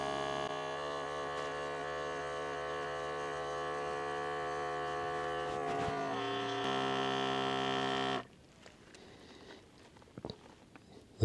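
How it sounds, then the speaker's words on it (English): A Brevoy portable espresso maker brewing a shot gives a steady, close electric pump hum with a tonal whine that shifts pitch partway through. It stops abruptly after about eight seconds, leaving near-silence with a few faint clicks. "And she's making an espresso."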